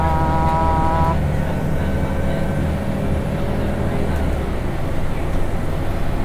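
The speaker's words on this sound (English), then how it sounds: "You probably can hear how strong the motor is already." A Transperth B12 bus (TP3014) on route 906 between Fremantle and Perth, its motor running with a loud, steady drone heard from inside the cabin, continuous throughout.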